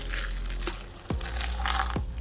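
Water poured into a blender jar over coriander, mint leaves, green chili, salt and cumin powder for an herb sauce, a continuous close splashing pour with a few hollow gurgles.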